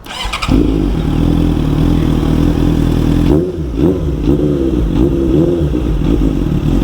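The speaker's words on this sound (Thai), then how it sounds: "เรามาลองฟังเสียงเครื่องกันนะครับกับ CB 6เอ F" A Honda CB650F motorcycle engine starts up and settles into a loud, close idle, then gets a few quick throttle blips that rise and fall in pitch before dropping back to idle.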